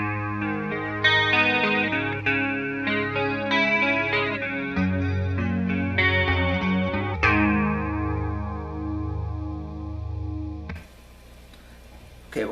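An electric guitar with a chorus effect plays a song: a clean, shimmering melodic phrase of picked notes, clear and alone, ending in a brief burst of noise.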